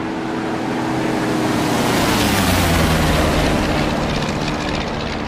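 A heavy WWII warbird's piston engine in the DCS flight sim, a loud, steady droning roar with a throaty rumble that swells slightly and holds, alone without talk.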